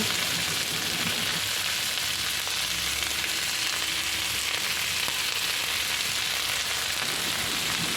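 Vegetables with tomato and salt fry in a pan, making a continuous, even hiss of oil close by, with soft occasional stirring scrapes barely rising above the sizzle.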